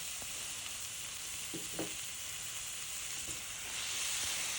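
Chicken breast frying in a pan, giving a steady close sizzle and hiss with a few soft clicks of a utensil, growing slightly louder toward the end.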